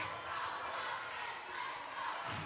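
College volleyball crowd at a Senior Day match cheers with a continuous, fairly faint roar heard from a distance, with a voice talking over it.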